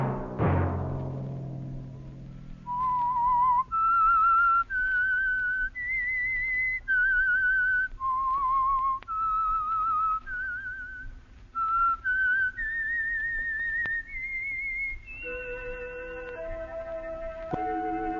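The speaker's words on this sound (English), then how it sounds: "Let that whistle be your signal for the Signal Oil program, The Whistler" The signature tune of The Whistler radio program is whistled as a clear, solo melody of sustained notes that climb and fall for about fifteen seconds, after a brief low tone at the start.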